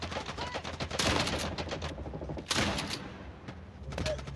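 Rapid automatic gunfire crackles in a Call of Duty match, with bursts of shots and a few heavier blasts over constant game noise, while a player talks excitedly throughout.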